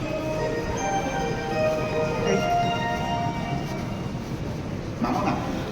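A train at a station in Japan rumbles steadily throughout, with faint bell-like tones and a brief brighter clatter near the end, no talking over it.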